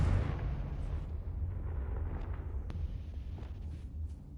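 Confringo spell blast in Hogwarts Legacy, a low rumbling explosion that swells at the start and then decays into a fading roar, with a brief sharp crackle near the end.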